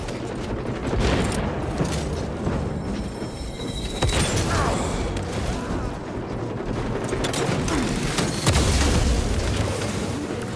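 Grenade blasts and gunfire in the Warhammer 40,000: Space Marine 2 battle, dense booming explosions and rattling mechanisms layered over continuous combat noise, with a sharp heavy detonation near the end.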